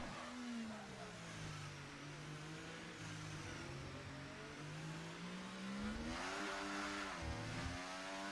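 Formula race car in a racing video game sliding through a turn on a wet Belgian circuit, its engine droning steadily with pitch rising and falling, then revving harder as it slides and recovers.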